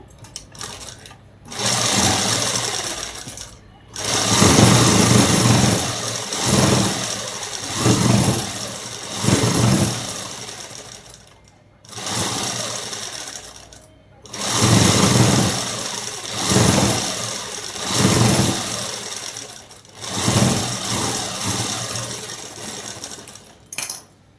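A sewing machine stitches soft cloth for a small baby's dress, running in repeated bursts of several seconds with short pauses between them, close and steady, with no voices over it.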